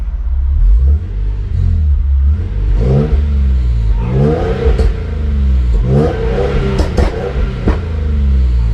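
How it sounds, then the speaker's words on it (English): A car engine, just fitted with a bigger fuel pump for E85, gets several light revs, each rising and falling in pitch over a steady idle rumble, with a few sharp pops near the end. "So I'm gonna give it a couple revs and see what happens."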